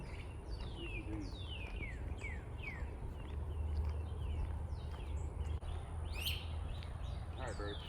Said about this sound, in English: Alright, birds, chill.